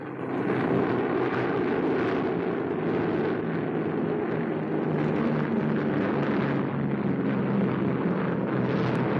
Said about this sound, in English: Allied bombers swarm across the Mediterranean, softening Italian island strongholds with overwhelming air power.